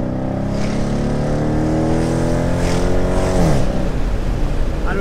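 A Dodge Challenger R/T muscle car with a V8 and automatic gearbox accelerates hard, a loud rising engine roar with a clear shift near the end before the revs settle, with no talking.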